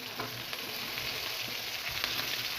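Potatoes, onion and eggplant fry in a kadai with a soft, continuous sizzle, a few faint stirring scrapes breaking through the steady hiss.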